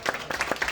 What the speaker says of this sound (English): So let's give them a nice round of applause again,